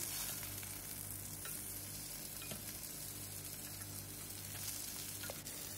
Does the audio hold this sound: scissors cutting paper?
no